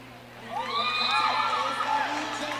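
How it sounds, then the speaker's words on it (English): Crowd cheering at a roller derby bout, a broad swell of distant whoops and shouts from spectators that rises and holds for a couple of seconds. "Crowd happy about that one, as you can probably hear in the background."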